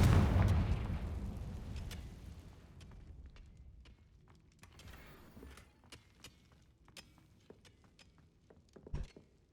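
Confringo spell blast in the video game Hogwarts Legacy, one loud boom at the start that fades into scattered crackles and debris pops, with a final small burst near the end.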